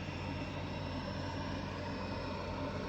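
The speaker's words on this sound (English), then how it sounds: "Constant kind of metallic whine and air moving quickly through a little heatsink" Single-fan blower-style A4000 graphics card cooler giving a constant metallic whine as air rushes through a small heatsink; steady, unbroken rushing tone, fairly loud and close, with no variation and no talk.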